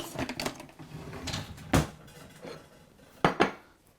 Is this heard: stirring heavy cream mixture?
yes